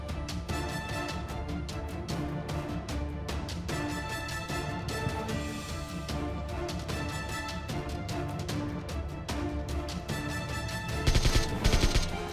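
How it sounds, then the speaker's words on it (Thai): Dense, continuous PUBG Mobile combat noise with rapid gunfire throughout and a heavier grenade blast near the end, loud and busy with no talking. "ใครโยนระเบิดมาวะเนี่ย"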